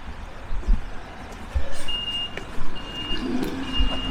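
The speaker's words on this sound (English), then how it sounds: "God is reversing now." A lorry reverses along a roadside during a countryside walk, its reversing alarm sounding as steady high beeps over rumbling engine noise and wind buffeting, with no talking.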